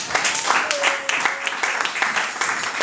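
Congregation applauding and cheering in a church worship service, steady dense clapping with a few voices calling out over it, close and lively throughout.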